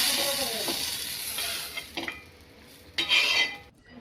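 Garlic cloves and ginger dry-roasting in a pan for a Latur-style curry, a soft continuous sizzle with intermittent scraping stirs and light utensil clinks, close and fairly quiet, no voices.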